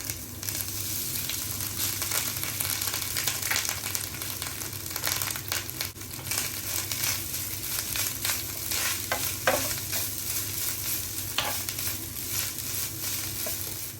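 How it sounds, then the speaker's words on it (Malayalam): Grated coconut and curry leaves roast in a pan with a steady, close sizzle and frequent scraping stirs, with no talking. "ഈ തേങ്ങയും കറിവേപ്പിലയും ചേർത്തിട്ട് നമുക്ക് നല്ല ബ്രൗൺ കളറാവുന്ന വരെ വറുത്തെടുക്കണം"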